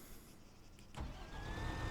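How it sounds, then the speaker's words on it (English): An M1128 Stryker's engine starts in ARMA 3. A quiet hum turns into a sudden crank about a second in, then settles into a loud, steady running rumble with a faint whine above it. "So let's start the engine."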